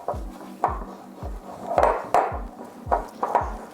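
Flour is mixed into a beignet dough, with steady rhythmic thuds and scrapes repeating about every half second at close range. No one speaks.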